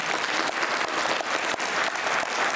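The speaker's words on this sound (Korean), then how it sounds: "우리 귀한 강의해 주신 김한수 목사님 다시 한번 뜨겁게 박수 보내드립니다." Warm, sustained applause from a church audience honoring Pastor Kim Han-su after his special lecture on evangelism, a dense steady clatter of many hands with no voices on top.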